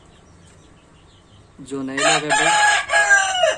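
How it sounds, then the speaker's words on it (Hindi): Farm chicks chirp and cluck, with a quiet start giving way to a loud, dense burst of high calls close by, and someone speaking briefly. "मैं आज आप लोगों को फॉर्म के मुर्गी के बच्चे बता रहा हूँ,"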